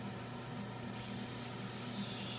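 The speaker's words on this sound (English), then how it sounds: "take my non-stick cooking spray" Non-stick cooking spray hisses from an aerosol can onto a kitchen pan, a steady close spray that starts midway and continues alone.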